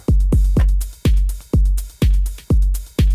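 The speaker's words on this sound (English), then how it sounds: "Drum computer information is this." A steady electronic drum beat repeats a punchy low kick with crisp hits on top, evenly spaced and loud, with no other sounds.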